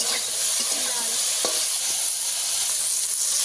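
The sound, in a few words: okra frying and being stirred in a pan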